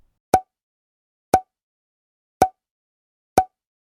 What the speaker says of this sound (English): Then I'm going to add these white plates on top.